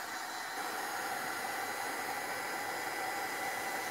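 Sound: heat tool drying paint on altered horse

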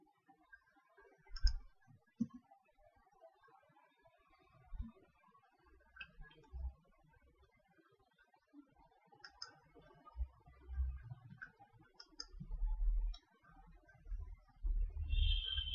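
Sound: computer keyboard key presses and clicking

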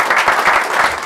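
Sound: audience applause at gallery event

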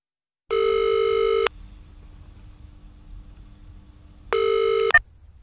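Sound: telephone dialing and ringing when calling a phone service

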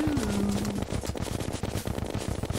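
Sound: gunfire in a video game

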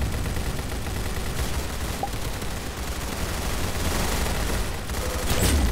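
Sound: gunfire in the Roblox Arsenal video game

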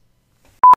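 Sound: mobile phone sound

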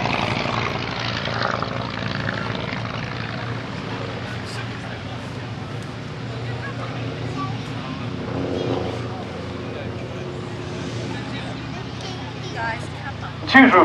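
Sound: Avro Tutor and Hawker Tomtit vintage biplanes, engines running

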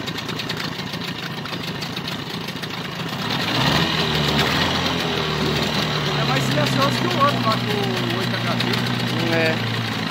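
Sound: Mariner 25 hp outboard motor running in water

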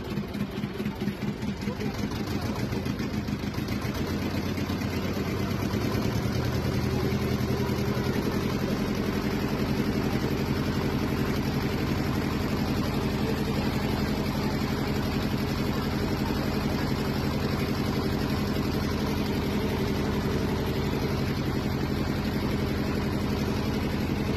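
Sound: boat engine while crossing the Ganges

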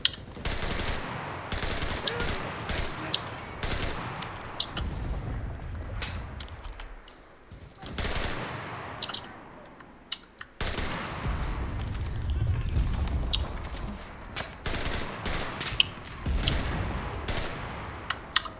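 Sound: gunfire in the video game Enlisted

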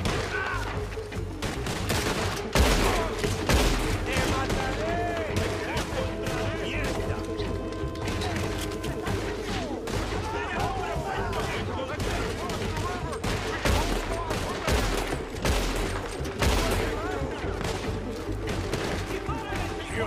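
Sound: gunfire in video game Red Dead Redemption 2

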